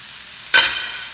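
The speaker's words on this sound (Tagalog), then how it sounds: "ilalagay na po natin lahat yung ating niluto na prawns" Cooked prawns for salt and pepper prawns tipped into a very hot pan give a sudden loud sizzle burst that fades slowly to a steady frying hiss.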